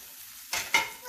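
Green peppers and mushrooms go into a skillet with sausage, and two short bursts of sizzling follow after a quiet start. The hiss flares close and then fades quickly.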